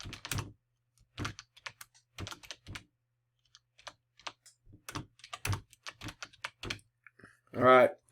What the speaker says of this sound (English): You can go through and list your team officials by typing it in down here.